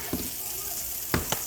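Salmon and shrimp frying together in a skillet, a steady low sizzle running throughout with a few brief clinks or stirring taps near the start and end.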